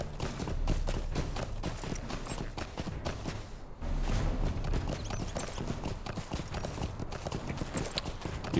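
Horse hooves galloping while riding in Lord of the Rings Online, a fast continuous clip-clop rhythm, loud and close, running steadily with a brief dip partway through.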